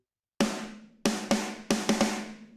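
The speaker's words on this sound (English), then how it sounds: "But when we throw the compressor fully maxed out here," Brutal death metal drum mix pushed through a fully maxed compressor, with five heavy, punchy hits landing in irregular succession, each ringing out with a loud, dense, sustained tail and no voice.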